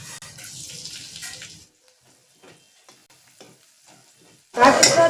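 Finely chopped garlic sizzles in a kadai used for frying chicken, a steady hiss at first, then a quiet stretch with faint clinks, before a loud, close burst of sizzling at the end.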